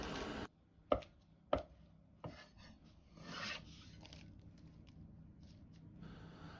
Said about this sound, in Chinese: 蔥葉切成段